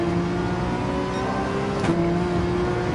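Porsche 911 RSR race car engine in Gran Turismo 7 on the Dragon Trail Seaside circuit, a steady high-pitched drone holding at speed with a brief shift-like blip near the end.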